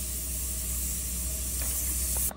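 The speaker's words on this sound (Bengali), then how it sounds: "আলুটা ভেজে নেব।" Sliced potatoes frying in hot oil in a pan for a bitter gourd fry, giving a steady, close, even sizzle and hiss with no talk.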